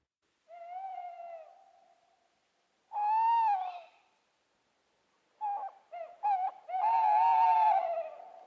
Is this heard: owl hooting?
yes